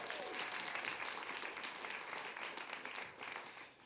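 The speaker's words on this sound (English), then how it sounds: "Let's give a round of applause for Yana." Audience applause at a live storytelling event, steady and dense throughout, quite faint and distant, easing off slightly toward the end.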